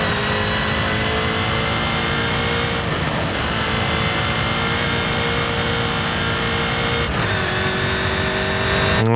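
A Jaguar in Forza Horizon 5 runs its engine with a supercharger whine and exhaust, a loud, continuous mid-pitched drone with sustained tonal harmonics and brief shifts in pitch.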